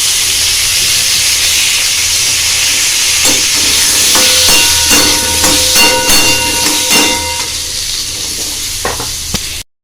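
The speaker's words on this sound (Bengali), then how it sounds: "এবার আমি আলুগুলো ভেজে নেব" Potatoes fry in a pan with a loud, continuous sizzle, joined midway by a run of sharp scraping and stirring knocks before the sound cuts off abruptly.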